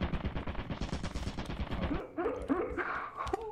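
Turret in Lethal Company shooting players: a rapid, loud burst of automatic fire lasting about two seconds, then stopping abruptly as a frantic voice cuts in.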